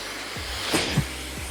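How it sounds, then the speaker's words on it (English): A salon hair dryer fitted with a concentration nozzle blows a steady, close airy rush with a low motor hum, briefly shifting in pitch as it is moved, with no talk over it. "I'm gonna be using a different nozzle. This is more of a concentration nozzle, so it really helps to direct the heat."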